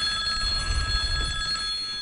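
A telephone bell rings steadily and continuously over about two seconds, bright and moderately loud, with some low background rumble underneath.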